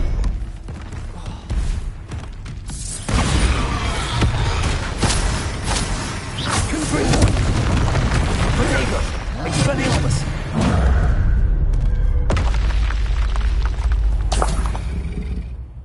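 Bombarda explosion spell in Hogwarts Legacy: heavy booming blasts and rumbling crashes in loud bursts, with whooshes between them and a voice talking over the action.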